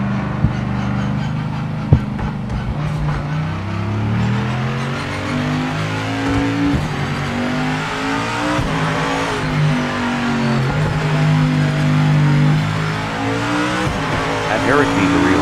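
Loud racing-car engine in the video game Project Motor Racing, roaring and shifting pitch continuously, with occasional tire squeal, a voice talking faintly underneath.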